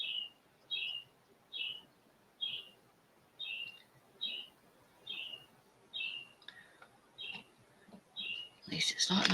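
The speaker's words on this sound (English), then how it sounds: "Sorry if you hear a bird in the background." A bird calls outside, picked up by home security cameras: a steady series of about ten short, even chirps at regular intervals, faint and distant over a quiet hiss, with a louder noise burst at the end.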